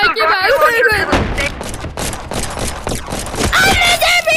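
Sniper gunshots in the VR game Animal Company, a few sharp cracks spread across the stretch, mixed with excited shouting and yelling from players talking over them.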